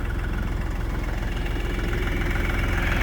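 Tractor-mounted snowblower with its augers running slowly while the tractor engine is idled down, giving a steady, loud, close, low rhythmic engine chug with a throbbing pulse and no talking.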